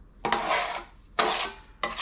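Joint compound being mixed in a pan with a scraping tool, heard as three separate broadband scraping strokes of about half a second each, close and moderately loud, with no talking.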